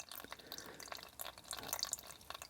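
Petrol trickles and drips through a filter bowl on a long-stored engine, a faint, close liquid patter with small splashes and no talk.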